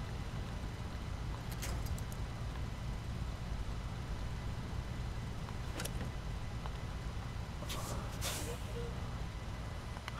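A truck in the Snowrunner video game releases its air brake in a few short, sharp hisses over a low, steady engine rumble, with some talk in the background.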